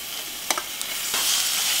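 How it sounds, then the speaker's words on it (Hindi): Marinated chicken is stirred into hot oil spiced with black pepper and chicken masala, a constant close sizzle with a few quick scraping stirs of the spoon and no talking. "अब मैरिनेटेड चिकन को इसमें मिक्स करेंगे।"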